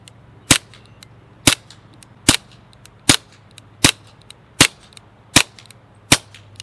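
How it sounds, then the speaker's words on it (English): Rifle shots through an AAC Halcyon modular silencer in its shorter configuration, eight sharp suppressed cracks fired at a steady pace about one second apart, each snapping loud against a quiet outdoor hum. "the big thing to note on there was a first round pop on the shorter configuration"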